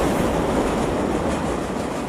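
A subway train rumbles loudly and steadily at a Harlem station, with dense, constant rolling wheel noise that fills the whole clip and no voices.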